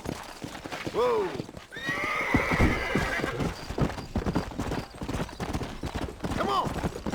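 A horse whinnies loudly several times over quick clip-clop hoofbeats in the video game Red Dead Redemption, with game-style sound effects and brief voices mixed in.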